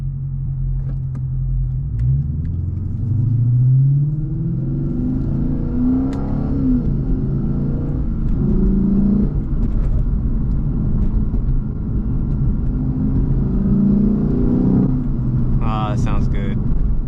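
Inside a Lexus ISF on the road, the engine and exhaust rumble through repeated rising and falling revs as it downshifts, with a deep throaty drone throughout and a voice talking over it.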